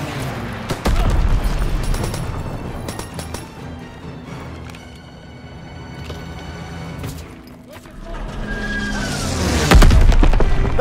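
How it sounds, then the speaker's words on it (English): An artillery barrage in Call of Duty WWII, with heavy booms and crashing impacts over a battle din of rumble and scattered fire, swelling and fading before a loud blast near the end, with no clear talk. "You get up the artillery,"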